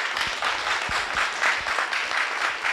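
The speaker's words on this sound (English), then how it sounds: "I would like you all to give a round of applause to our esteemed panel" An indoor audience at a health equity and environmental justice panel event claps for the panel, a steady crowd of applause at moderate distance, lasting without a break and heard alone.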